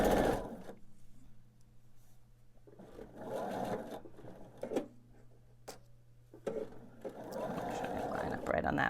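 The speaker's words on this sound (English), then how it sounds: "sew to the end of my block" A sewing machine stitches quilt blocks in quick bursts of rapid ticking whir with pauses between, close by, while a person talks over and between the runs.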